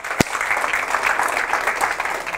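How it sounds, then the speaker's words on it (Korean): Audience applause during a lecture at a police station, a steady round of clapping from a crowd that opens with a single sharp, close clap. "박수 좀 크게 치소."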